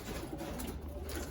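Pigeons coo softly inside a loft of Gerard Koopman birds in Seguin, Texas, low murmuring calls drifting through a steady background hum, faint and continuous rather than distinct single calls.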